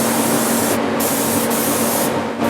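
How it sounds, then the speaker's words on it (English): A spray gun hisses loudly and continuously while finishing an Ovation guitar body by hand, with a few brief dips as the spray pauses. "a human being actually does the spraying"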